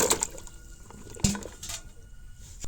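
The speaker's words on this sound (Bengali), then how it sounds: "আমরা সব একসাথে ধুই, পরিষ্কার করুন, 2-3 বার করে জল পাল্টাইয়া ধুই" Carrots, lemons and mangoes are washed together in water, with close splashing and sloshing, a sharp knock of produce or a container midway, and dripping afterward.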